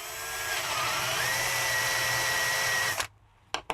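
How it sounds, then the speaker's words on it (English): A power drill with a 10mm bit whirs steadily at high speed for about three seconds while starting a hole, then cuts off, followed by a couple of short bursts of the motor. "put the 10mm drill bit into a power drill"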